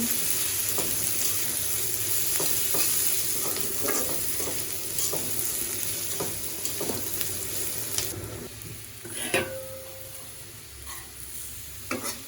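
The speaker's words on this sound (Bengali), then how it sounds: "পেঁয়াজ আমি আলুর সাথে ভেজে নেব।" Onions and potatoes fry in a pan with a constant sizzle and repeated stirring scrapes, loud and close at first, then quieter and sparser in the last few seconds.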